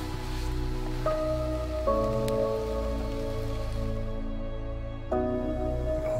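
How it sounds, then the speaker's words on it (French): Light rain patters steadily on a leaky hut in a forest at night, a soft, continuous wash of drops with a faint tonal hum underneath and no talking. "Il est aussi en train de légèrement pleuvoir en fait."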